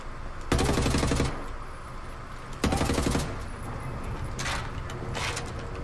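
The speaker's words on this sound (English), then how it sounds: "Who's shooting?" Bursts of automatic gunfire in the shooter game Wolfenstein: The New Order, with two long loud volleys followed by shorter, quieter rattles of shots.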